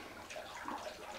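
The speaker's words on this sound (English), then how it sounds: "So we're going to add our chilled water" Chilled water poured into warm beer wort during homebrewing gives a steady, soft rushing and gurgling splash with no talk, fairly quiet and continuous throughout.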